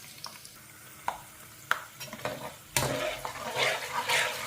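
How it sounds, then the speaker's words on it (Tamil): Cashews fry in a pan for biryani, a soft sizzle broken by scattered spoon scrapes and clinks that builds into a louder, steady crackle near the end. "கொஞ்சோண்டு முந்திரி, இதையும் கலந்துக்கலாம். இது கொஞ்சம் நல்லா மொறுமொறுன்னு வரட்டும்."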